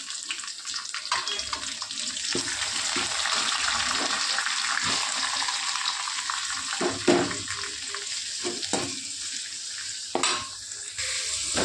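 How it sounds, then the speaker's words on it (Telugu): Onions and green chillies frying in a pan for leftover-rice tomato rice, a dense continuous sizzle with occasional scraping stirs and clinks, close and fairly loud throughout. "ఆనియన్ ఎర్రగా వేగనిద్దామండి. పచ్చిమిరపకాయలు వేసాను."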